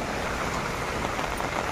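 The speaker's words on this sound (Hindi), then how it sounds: "देखिए दोस्तों कितना तेज से बारिश हो रहा है" Heavy rain in Delhi pours steadily, a dense, constant hiss and patter with no pauses and no voices.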